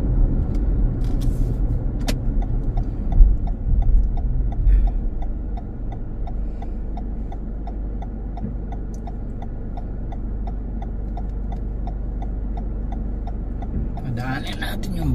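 A city bus in Minot rumbles steadily with a low engine drone and a regular ticking, ending with a brief airy hiss, while a person talks over it.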